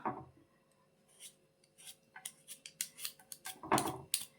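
Potatoes being peeled, a quick series of short dry scraping strokes, close and fairly quiet, growing more rapid and distinct toward the end.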